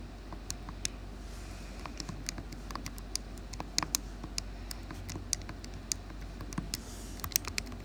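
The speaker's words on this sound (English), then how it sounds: "Go ahead and type this into your calculator." Steady run of quick clicking keypresses as numbers are entered into a calculator, close and fairly crisp over a low room hum, with no talking.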